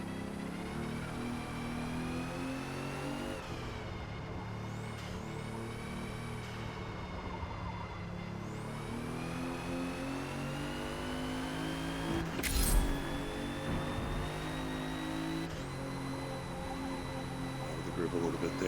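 Engine of a 2017 Alfa Romeo Giulia in Forza Motorsport on the Grand Oak track, droning steadily with rising and falling pitch through gear changes, a sharp burst partway through, under a speaking voice.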